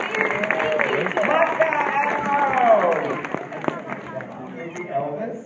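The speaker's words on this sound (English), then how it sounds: "How about a round of applause for my great volunteers?" An audience claps for volunteers at a Disney park show, a continuous crowd applause that swells and then fades, with voices and cheers mixed in.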